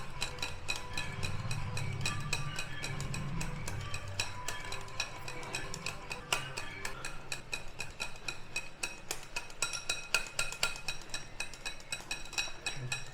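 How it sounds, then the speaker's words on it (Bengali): Cake batter with milk being whisked steadily in one direction in a bowl for a mango cake, giving a continuous run of quick metallic clinks and scrapes against the bowl, close and fairly quiet, with no talking. "এইভাবে 2 মিনিট ভালো করে ফেটিয়ে নেবো।"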